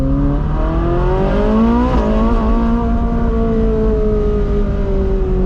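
A Ferrari 458 Spider's engine revs up hard as the car accelerates. The loud, close exhaust note climbs steadily in pitch, stabs briefly higher, then settles into a sustained high-revving wail with no talking.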